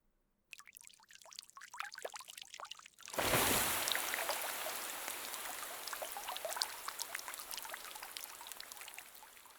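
Warm water poured in a steady stream, starting after a few scattered drips and light taps, then a sudden loud splashing pour that continues and slowly thins, close and alone with no talk.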